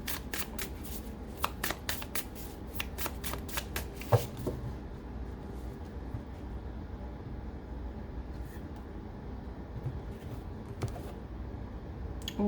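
Tarot cards are shuffled before another card is drawn, with a rapid flurry of riffling snaps for about four seconds, followed by softer handling sounds and a couple of faint card flicks.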